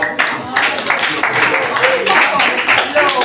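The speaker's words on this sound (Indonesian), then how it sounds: "Tepuk tangan dulu untuk mahasiswa bahasa." Audience at an Indonesian literary discussion event clapping in a close, lively burst of uneven hand claps, with voices mixed in underneath.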